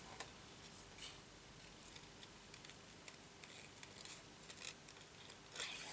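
Repeated crisp snips of scissors cutting through vanilla cardstock for a handmade card, irregularly spaced, close and fairly quiet against a faint background hum.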